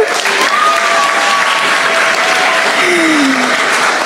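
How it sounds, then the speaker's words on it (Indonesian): Steady, loud audience applause for four talk show guests at a student event on television, continuous dense clapping from a crowd with faint whistles or tones over it. "tepuk tangan untuk keempat narasumber"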